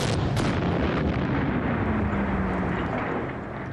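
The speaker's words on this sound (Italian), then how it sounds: "Ma il colpo di cannone tedesco ad alta velocità penetra facilmente nella corazza sottile dello Sherman." A German high-velocity cannon round strikes the thin armor of a Sherman M4 tank, a loud sustained blast and roaring rumble that fills the whole moment and slowly fades.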